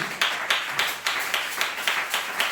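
During a Sunday church service, a congregation claps in a steady, even beat of about four claps per second, close and lively, with no talking over it.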